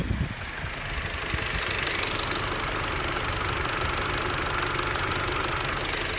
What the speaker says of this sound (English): the most interesting thing is how the engines sound on tick over